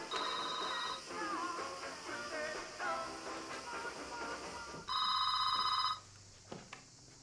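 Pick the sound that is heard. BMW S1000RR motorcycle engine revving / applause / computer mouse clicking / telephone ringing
telephone ringing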